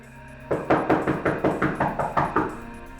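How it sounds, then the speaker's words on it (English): A run of about eight evenly spaced knocks on a door, firm and close, with no voices, during a tense confrontation in a true-crime account of a cartel case. "Amid all the shouting, there came a knock at the door."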